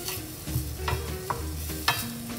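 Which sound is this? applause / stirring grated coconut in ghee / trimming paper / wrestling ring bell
stirring grated coconut in ghee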